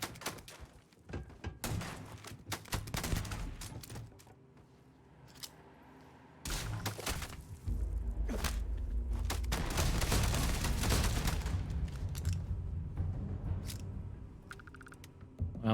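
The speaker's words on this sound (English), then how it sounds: "Are they shooting hostages?" Irregular volleys of gunshots and heavy impacts in the space game Starfield, some sharp single cracks and some sustained bursts, with a quieter stretch partway through.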